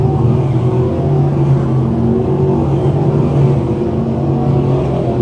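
602 crate sprint cars roar around a dirt speedway in a dense, continuous engine rumble, loud and close, with the pack of cars blending into one sustained drone.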